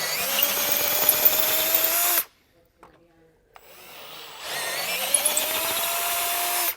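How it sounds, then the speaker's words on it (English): Power drill reaming out the saddle mount holes on a 2012 Tiffin Allegro motorhome's Ford chassis with a 1/2-inch bit: two loud, sustained whirring runs close by, separated by a brief pause. "if you have a 1/2-inch drill bit, go ahead and ream that out"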